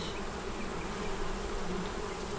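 A dense, steady drone of many honey bees working at an open, nearly honey-bound hive, close and continuous with no voices.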